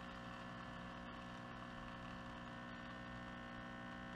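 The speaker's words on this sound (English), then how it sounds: "I think our machine is having a malfunction" Nespresso milk frother malfunctioning mid-froth, giving a steady, droning mechanical hum with a whirring, buzzy texture that holds without a break, fairly faint and alone with no talk.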